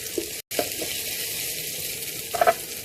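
Curry leaves hit hot oil with softened onions over turned-down heat, giving a steady close sizzle and frying hiss throughout, with a brief break and a few sharp crackling pops near the end.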